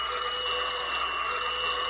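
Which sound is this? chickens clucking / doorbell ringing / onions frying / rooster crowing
doorbell ringing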